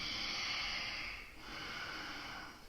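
Deep, even yoga breaths held in downward dog during an Ashtanga Yoga Series 1 practice, a long breathy exhale followed by a slow inhale, close and soft, with no talking.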